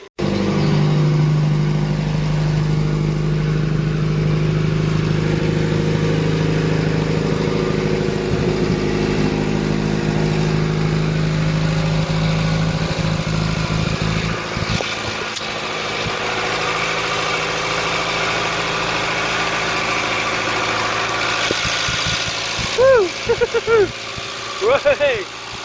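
Mk3 Ford Cortina Estate engine running after fuel pump work, a steady close idle that later drops lower and rougher, with brief talk near the end.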